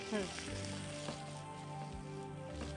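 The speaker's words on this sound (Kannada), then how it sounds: "ಇವಾಗ ಈರುಳ್ಳಿ ಹಾಕೋಣ. ಸಣ್ಣದಾಗಿ ಹಚ್ಚಿರೋ ಈರುಳ್ಳಿ." Finely chopped onions frying in hot oil in a home kitchen, a soft continuous sizzle with occasional stirring scrapes, heard faintly beneath a voice talking.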